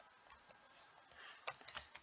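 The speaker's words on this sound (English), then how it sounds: "For example, I'm typing" Soft, quick keyboard typing, with a brief flurry of sharper key clicks near the end, close and quiet.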